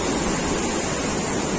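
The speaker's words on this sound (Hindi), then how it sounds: "नीचे देखो नदी एकदम भयानक नदी यार" A rushing mountain river roars below a swaying bridge on a snowy Himalayan trek to Madhmaheshwar, a loud, steady, unbroken wash of water noise with no talking.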